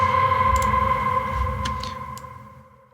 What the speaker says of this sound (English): when the lead synth is playing, the reverb gets ducked down